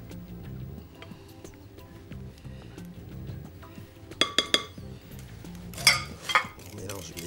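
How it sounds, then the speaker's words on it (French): Mandarin zest being folded into whipped cream in a bowl, with soft scraping and a few sharp clinks of utensil against the bowl toward the end, under faint background noise. "Maintenant, on va mélanger avec la crème montée."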